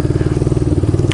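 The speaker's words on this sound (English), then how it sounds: "As you can tell, the bike is running like crap right now. It's jerking all over the place. It won't idle." A motorcycle engine running rough with one cylinder not firing until high RPM, jerking and unable to idle; a loud, uneven pulsing chug with regular throbs throughout, close up and alone.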